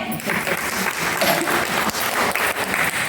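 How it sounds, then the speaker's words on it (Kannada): Steady, close applause from a group of around forty people at a devotional quiz gathering, continuous clapping throughout with little else over it. "ಚಪ್ಪಾಳೆ."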